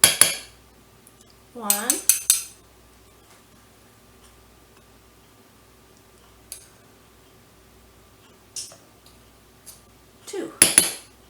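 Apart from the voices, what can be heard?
measuring teaspoons of flour with a spoon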